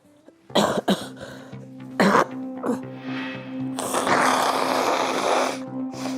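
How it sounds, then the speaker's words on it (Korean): A person with rhinitis gives a few sharp coughs close up, followed by a long congested snort or sniffle, over a steady low hum in the room. "이어지는 기침"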